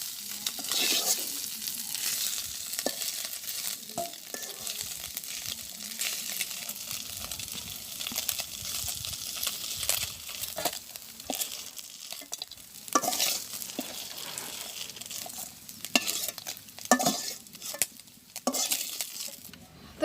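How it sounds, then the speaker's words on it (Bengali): Small fish sizzling steadily in hot oil in a pan, with stirring scrapes and utensil clicks over a continuous loud fry, no talking. "তো আমার মাছ ভাজি হয়ে গেছে, আমি এখন মাছটা নামাই নিতেছি"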